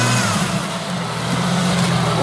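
A lifted Jeep Cherokee XJ with a 3-inch lift grinds along off-road, its engine held under steady, loud throttle in a continuous mid-pitched drone with no pauses.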